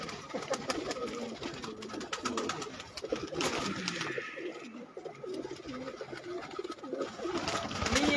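Pigeons kept by a pigeon-racing fancier coo repeatedly in soft, rolling throaty calls, several birds overlapping nearby against a rustling background, with no speech.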